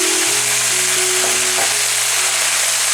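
Hot and sweet sauce sizzles loudly and continuously in a frying pan, a dense, close hiss with a few brief stirring sounds near the start and no talking.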